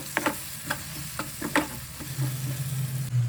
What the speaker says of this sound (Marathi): आता मी सगळे मसाले टाकून घेतलेत आणि पुन्हा एकदा परतते व्यवस्थित